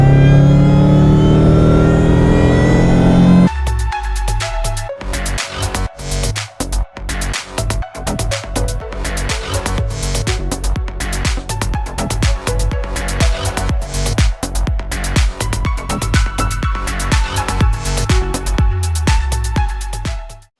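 A Subaru EJ257 fitted with an M90 supercharger and cold air intake revs hard, opening with a steady idle before a loud, choppy run of repeated blips with a high supercharger whine riding over the engine note.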